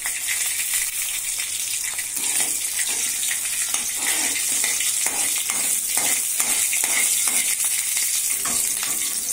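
Green chillies sauté in a pan, a continuous close sizzle with scraping stirs and soft watery hissing throughout, no talk.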